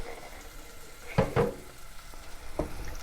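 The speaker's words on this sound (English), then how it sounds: "Crushing it by hand" Canned peeled San Marzano tomatoes from a 28-ounce can being crushed by hand in a bowl, giving a couple of short wet squelches close by, then a fainter squish, over a low background hiss.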